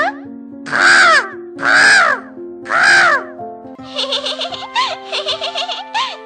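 A human voice imitates a crow's cawing: three long, drawn-out caws followed by a quick run of shorter, choppier caws, loud and close.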